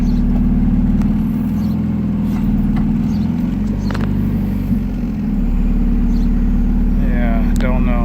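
A 1992 GS-R turbo engine idles steadily after a cold start, a continuous close rumble with a light clatter and occasional faint knocks in the background.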